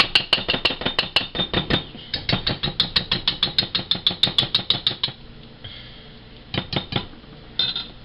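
Whole wheat blueberry muffin batter being stirred in a bowl, a fast even run of sharp scraping clacks from a utensil hitting the sides, then a pause and a few scattered strokes, close and alone.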